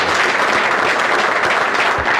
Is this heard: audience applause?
yes